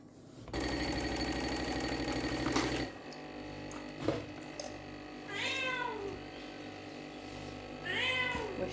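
A pet cat meows twice, close by, in a kitchen, each call a clear rising-and-falling cry, after a burst of running tap water as a mug is rinsed, with a steady mechanical hum underneath.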